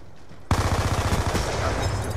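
Rapid automatic gunfire in Call of Duty on the Cargo map, bursting in abruptly after a quiet moment, then a loud sustained rattle of closely spaced shots with no talking.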